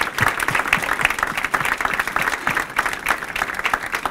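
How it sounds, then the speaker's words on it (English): A school event audience applauds loudly and steadily, dense clapping mixed with a few crowd cheers, sustained throughout with no talking. "Let's give one more round of applause to them"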